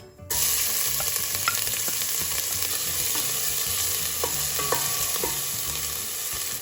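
Chopped onion frying in hot oil over medium heat for vegan kadhi pakora, a steady close sizzle with scattered crackles and a few light scrapes, no voices.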